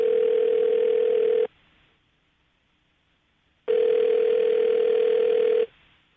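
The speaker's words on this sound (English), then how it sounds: "I'm going to dial the phone number right now" Two long, steady telephone dial-tone bursts, close and clear, separated by a couple of seconds of near silence while a call is being placed.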